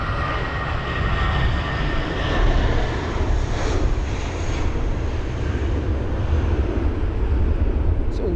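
Airbus A320 landing at London Heathrow during Storm Kathleen, its engine roar steady and fairly loud, buffeted by gusting storm wind across the whole stretch with no talk.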